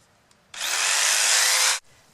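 A jigsaw cuts hardibacker cement board at a workbench in a single loud burst of about one and a quarter seconds, a harsh rasping buzz that starts and stops abruptly against a quiet background.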